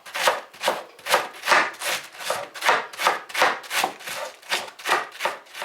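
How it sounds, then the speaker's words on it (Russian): Rhythmic knife strokes finely shred early cabbage on a board, about two cuts per second, crisp and close with no talking. "И нарезаем, шинкуем мелко капусту."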